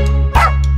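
A single short dog bark rings out over a steady musical backing in a children's song about a farmer's dog.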